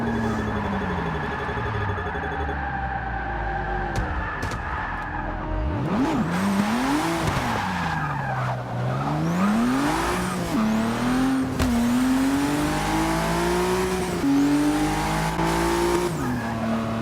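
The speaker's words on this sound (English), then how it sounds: "Oh, we're going into a drift again." A Ford GT drifting in the racing game Forza 6, its engine note swooping up and down through long revving sweeps with tire squeal and skidding, loud and continuous with no talking.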